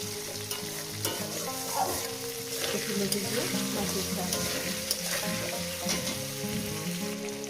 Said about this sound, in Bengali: চার মিনিট এটাকে ভেজে নেব